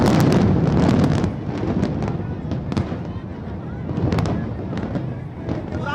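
Controlled demolition explosion of the Noida Supertech Twin Towers, a pair of residential high-rises: loud, dense crackling bursts of charges roll on continuously, with heavy low rumble and wind buffeting the microphone.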